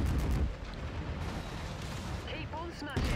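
LBX autocannons booming in Mechwarrior 5: Mercenaries, a steady barrage of loud low blasts amid constant battlefield rumble, with a heavier shot near the end and a voice speaking over the noise.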